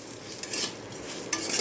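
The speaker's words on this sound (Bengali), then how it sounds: "ঘি দিয়ে ভেজে নেব, তাহলে স্মেলটা ভালো হবে" Vermicelli fries in ghee in a pan, a steady close hiss with a couple of quick scraping stir strokes, no voices.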